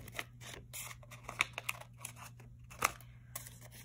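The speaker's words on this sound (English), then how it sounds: "I'm going to take the money and I'm going to cut the butterflies out" Sharp, close scissor snips cut butterfly shapes out of paper banknotes for mail art, with irregular clicks and short pauses between the cuts.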